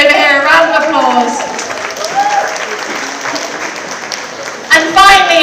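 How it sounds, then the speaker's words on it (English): A crowd applauds a charity pledge at a New York Fashion Week runway show for designer Ana Ono. The sustained clapping runs under a speaker's voice at the beginning and end. "A round of applause"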